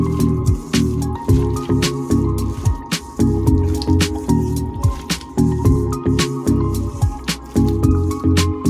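Small fish are squished and mixed by hand with mustard oil, making rhythmic wet squelching and dripping sounds close up, repeating steadily with no talking.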